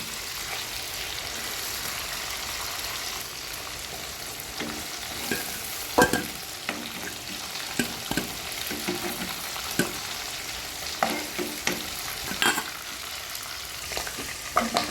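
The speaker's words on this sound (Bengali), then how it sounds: "মোটামুটি একটু হালকা ব্রাউন করেই ভেজে নিচ্ছি" Pieces frying in plenty of oil for a chicken curry with papaya, a constant close crackle and hiss under repeated metallic clinks and scrapes of a spatula against the pan, with no voices.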